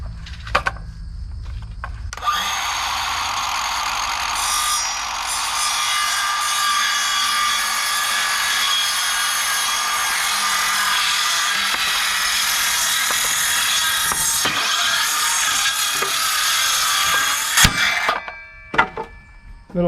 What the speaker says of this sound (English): Little kickback from the saw there.